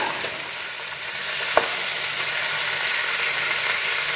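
Tomatoes fry in a home kitchen pan with a steady, close sizzle and faint stirring, plus a single sharp clink partway through; nobody speaks.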